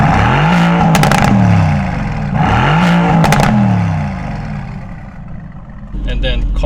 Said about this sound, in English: Can we hear the difference with the exhaust?